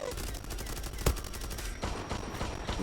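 Gunfire in the online shooter game Zula, a loud single shot followed by a quick burst of rapid shots, heard up close with game ambience and faint voices in the background.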